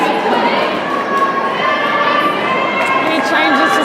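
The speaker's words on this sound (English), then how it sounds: "English doing a nice Australian cheer there." Spectators at an indoor netball World Cup final between Australia and South Africa, a dense, steady roar of crowd cheering and shouting filling the arena without pause.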